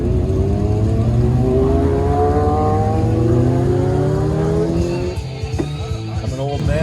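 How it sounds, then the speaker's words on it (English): Cars rumble and whoosh past close by, engine tones rising and falling continuously, with a louder vehicle sweeping through near the end. "watch all the fancy cars go past"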